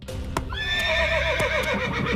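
A horse neighs loudly and close in a long descending whinny that wavers and trails off, following a couple of sharp knocks, with faint hoof clatter around it during a stunt show.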